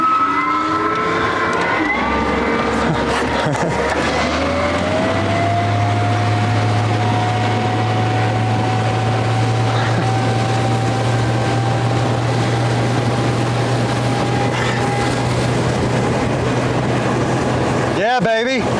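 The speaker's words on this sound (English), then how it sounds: "that's the fastest ride I've ever taken in an electric powered John boat" An electric-powered aluminum john boat carrying three people runs at top speed, over 30 mph. A steady motor whine and rushing water and wind noise hold loud and close throughout, with a brief burst of sound near the end.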